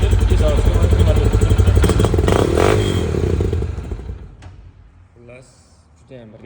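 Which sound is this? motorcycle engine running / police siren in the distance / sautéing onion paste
motorcycle engine running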